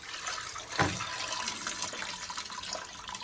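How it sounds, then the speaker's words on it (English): Water draining out of a toilet tank while a flush valve is removed: a continuous close trickling and gurgling rush with a small splash near the start, steady throughout. "So all the water is going to drain out."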